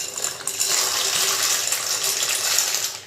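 Dry pasta slides into a pot of boiling salted water with a little cooking oil, giving a brief rattling pour followed by a steady bubbling hiss, close and alone.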